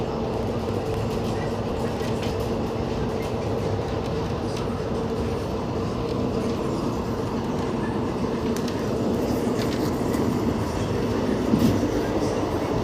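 A train rolls along steadily inside the carriage, with a continuous low rumble and faint rhythmic clatter of wheels on rails, close and loud throughout.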